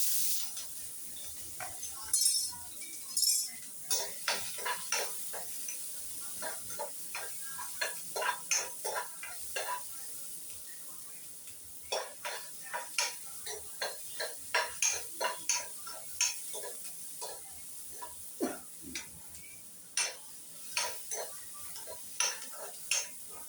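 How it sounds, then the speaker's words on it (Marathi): Finely chopped onion fries in oil while a spoon stirs and scrapes the pan, making a continuous sizzle punctuated by many quick, close metallic clinks and scrapes at an irregular rhythm. "चांगला कांदा गोल्डन कलरवर भाजायचा."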